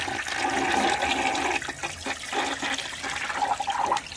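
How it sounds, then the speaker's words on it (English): A clogged toilet flushes loudly and close by, with a rushing, gurgling torrent of water that surges in two waves as the bowl fills, and no voices. "So you go ahead and flush it."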